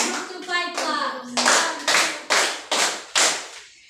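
A classroom group claps five times in a steady rhythm, crisp and close, right after a brief bit of talk.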